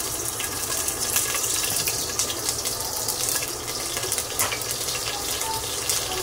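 Green chilies, slit down the middle, dropped five or six at a time into well-heated oil, giving a steady, loud broadband sizzle that holds throughout without pause.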